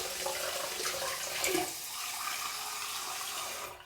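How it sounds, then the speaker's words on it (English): Hot water pours steadily from a tap into a shaving bowl for several seconds, a close, continuous rushing splash that cuts off at the end. "I'm going to get some hot water in here."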